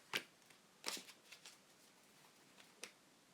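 Tarot love cards are shuffled and drawn by hand, giving a few sharp riffling bursts and softer card flicks at close range with no talk.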